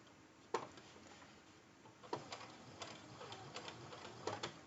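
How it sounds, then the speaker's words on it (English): A sewing machine stitches a zipper pouch in short runs, its rapid mechanical needle clatter starting and stopping with sharp ticks and bursts, close and fairly quiet, with no talking. "I'm simply going to sew to the end, backstitching"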